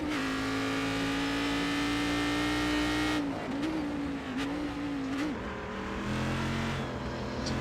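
A Corvette race car engine in the iRacing simulator holds a loud, steady high drone, then wavers and dips in pitch as the car lifts and shifts, with faint tire noise beneath and no talking.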